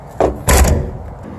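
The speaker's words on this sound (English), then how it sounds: "very thick baggage doors" A thick baggage door on a DRV Mobile Suites 40KSSB4 RV shuts with a soft thump followed by a louder, solid slam, close and brief.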